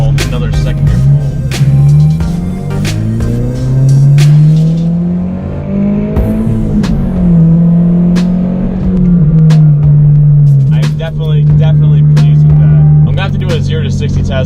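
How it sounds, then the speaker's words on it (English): A car accelerates hard through second gear, its engine loud and close with a rising, droning pitch that climbs steadily, dips at a gear change and then builds again. "Another second gear pull."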